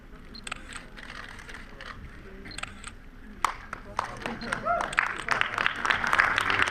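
SLR camera shutter clicks during a group photo at an awards ceremony closing a film festival gala, several sharp clicks in quick bursts over murmuring crowd, voices and some clapping.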